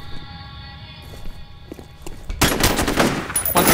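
Gunfire in the F.E.A.R. first-person shooter: a few scattered sharp shots and footsteps, then a sudden loud burst of rapid automatic fire filling the last second or so.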